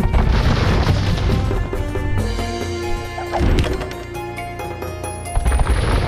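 An explosion booms in the Age of Empires 2 video game, a loud crashing impact over dense game music and battle noise, with a second burst of impact near the end.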